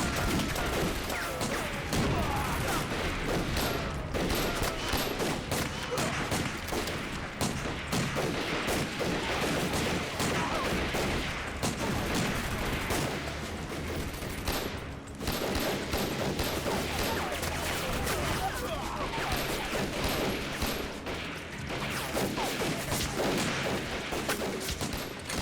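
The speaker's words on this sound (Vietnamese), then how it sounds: "bắn, cho tôi khai hỏa." Dense, continuous gunfire volley in a war film about anti-Japanese resistance fighting, sustained rattling bursts and cracks blending with explosions and battle noise, loud and unbroken throughout with no clear gaps.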